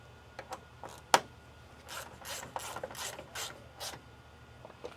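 Hand tool tightening a part during Mercedes/Dodge Sprinter van repair, a quiet run of ratcheting clicks and rasping strokes, one sharper snap near the start, against a low background hum.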